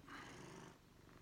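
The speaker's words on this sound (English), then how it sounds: "if you can hear him meowing and you can hear him purring in all the videos" A domestic cat purrs steadily up close, a faint, low rumble on its own with no talking.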